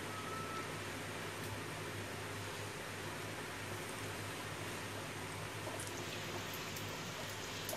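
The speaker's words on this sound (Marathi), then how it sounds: "बघा कैसा तलत राहते" Dough for a Konkani dish fries in hot oil, giving a faint, steady, rain-like crackle and hiss that continues without pause and without talking.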